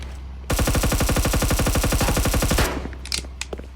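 A sustained automatic burst from a gun in a shooter video game rattles loud and close for about two seconds, a fast even stream of shots, then a few scattered softer hits.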